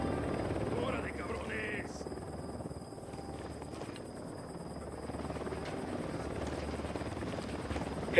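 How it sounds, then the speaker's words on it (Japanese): A helicopter's rotor drone in the video game Ghost Recon hums steadily throughout, mid-distance and constant, with a faint high electronic whine above it. "ヘリコプターが来る。"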